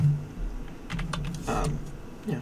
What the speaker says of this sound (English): So if we type in,